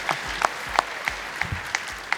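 A crowd clapping at an MMA awards ceremony, sparse and fairly soft, with individual claps landing in a loose, uneven rhythm.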